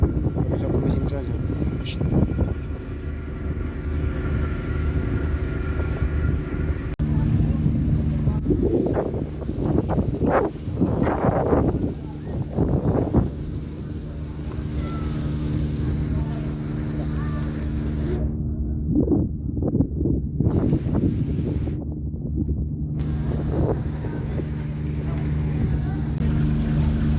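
A damaged ferry running on a single engine, out in stormy weather, drones low and steady throughout, with wind buffeting the microphone and people talking over it.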